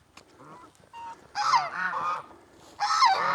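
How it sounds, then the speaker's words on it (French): Geese honk in loud bursts, several overlapping calls close by, with quieter cackling between the louder outbursts, in Madagascar. "Ah, les oies sont de sortie."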